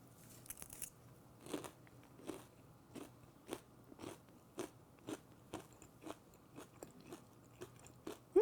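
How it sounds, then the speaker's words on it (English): Crispy Korean zucchini pancake with almonds is bitten and chewed, a close series of sharp, rhythmic crunches, roughly one every half second, over quiet background. "Did you hear the crispy sound?"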